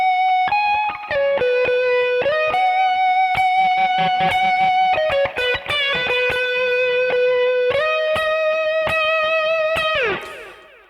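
Distorted electric guitar plays a pentatonic solo over a backing track, with sustained bent notes, quick picked runs and a loud, steady tone that fades out at the end.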